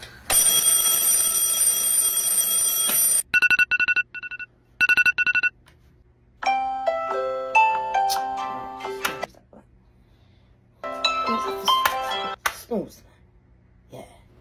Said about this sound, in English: That alarm that cannot snooze.